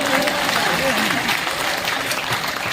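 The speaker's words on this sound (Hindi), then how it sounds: "एक बार तालियां बजा" Audience at a Hindi poetry gathering (kavi sammelan) in Barabanki breaks into applause, a dense, steady wash of clapping from a crowd, with a voice briefly audible over it.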